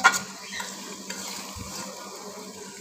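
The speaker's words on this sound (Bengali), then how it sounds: "এখন আমি ঢাকনাটা খুলে আরও কিছুক্ষণ মাংসটাকে কষিয়ে নেব।" Duck meat with potatoes frying in a pan for a Bengali duck bhuna, giving a soft steady sizzle with a few light scrapes of stirring, close and moderately quiet, no voices.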